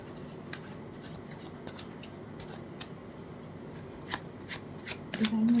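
Tarot cards are shuffled by hand in a quick series of soft riffling and sliding snaps, close and fairly quiet, with a brief voice near the end.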